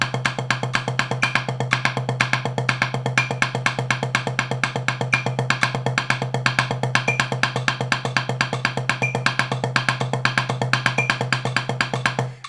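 Drumsticks play a steady, fast rhythmic sticking pattern on a drum, one hand shifted off center toward the edge of the head, with dense repeated strokes running evenly throughout, close and clear with no talking.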